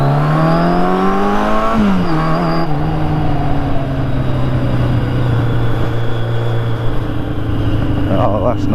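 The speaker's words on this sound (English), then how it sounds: "So low revs in first, 10 mile an hour, and let's go." A car engine pulling away in first gear from low revs at about 10 mph revs up steadily, pitch rising and then settling into a loud, sustained drone.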